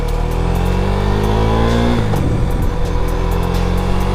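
A KTM Duke 390 motorcycle accelerates hard close by, its engine note climbing steadily, then dipping briefly at a gear change before pulling strongly again.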